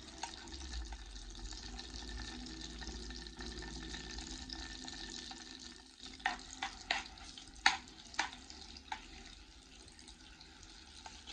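Minced garlic sautés in butter and a little oil in a frying pan, a faint steady sizzle with occasional stirring scrapes and clicks toward the end.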